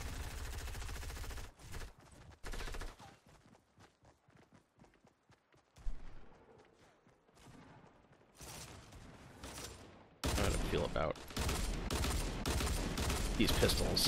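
Pistol gunfire in Fortnite Battle Royale: bursts of sharp shots in quick strings at the start, then scattered quieter pops and footsteps, and dense rapid firing again near the end, heard alone without talk.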